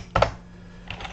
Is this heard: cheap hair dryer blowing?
no